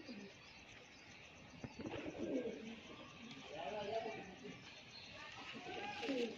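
Old purple-toned pigeons, kept as a pair, give low rolling coos again and again at close range over steady background noise, with a voice talking at times.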